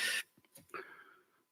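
A man leading a church service gives one sharp, close cough, followed by a few soft throat and breathing sounds.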